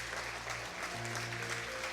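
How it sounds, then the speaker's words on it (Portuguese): A church congregation bursts into applause, a dense, steady wash of clapping that fills the room for the full length with no break. "Você pode aplaudir o Senhor?"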